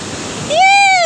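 Rushing surf at Kozhikode beach washes in for a moment, then a person nearby lets out a loud, sustained high-pitched cry over the sound of the water.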